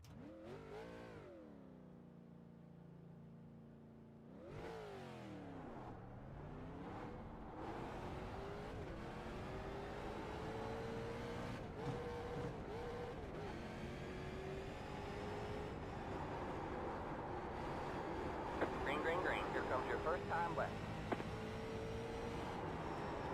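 A NASCAR Next Gen race car engine in a video game at Michigan, revving steadily with rising and falling pitch as the car accelerates and shifts, loud and continuous with no talk.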